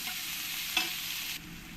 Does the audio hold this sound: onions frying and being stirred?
yes